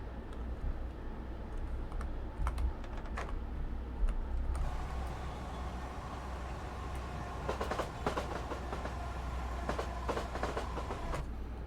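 A Class 456 electric train runs on rails in Train Sim 2021, with a continuous low rolling rumble, scattered sharp clicks and a brighter hum rising partway through, heard alone at moderate level.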